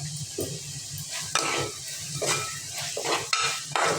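Curry leaves sautéing in a pan for a Kerala-style chicken curry, with a steady sizzle broken by repeated scraping stirs of a utensil against the metal, close and moderately loud, with no talking.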